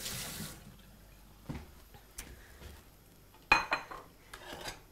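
A bowl is taken out and handled in a kitchen during a cooking demonstration: a few scattered clinks and knocks, then a sharper clatter near the end, close by with no talking.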